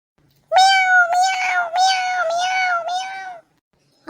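A cat gives a run of about five close, connected meows, loud and near, rising and falling in pitch before stopping, with silence before and after.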